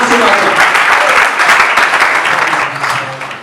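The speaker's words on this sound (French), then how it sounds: "applaudissons très fort pour la princesse également ce matin" Loud, dense applause at an official wedding ceremony, a crowd clapping vigorously for the princess, sustained throughout with a slight fade at the end and a few voices mixed into the noise.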